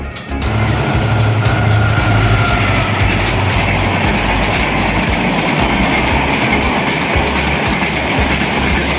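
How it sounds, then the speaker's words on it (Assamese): A train arriving at Krishnai station in Assam, a loud close rumble with rhythmic wheel clatter and a rising pitched tone, sustained and steady throughout. "ট্ৰেইন আহি আছে, চাওক আপোনালোকে।"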